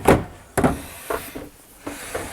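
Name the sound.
RV storage drawers being opened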